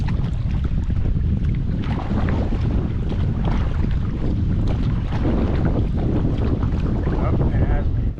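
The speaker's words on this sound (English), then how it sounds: "When that wind picks up, wow, that's a workout." Wind gusting across Tuscarora Lake in northeastern Pennsylvania while kayaking, a loud, steady roar and buffeting close to the microphone that masks most other sound.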